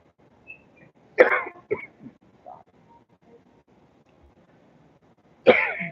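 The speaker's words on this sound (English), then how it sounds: "I got a cough." Two sharp, loud coughs several seconds apart, with a few softer throat sounds in between against a quiet background.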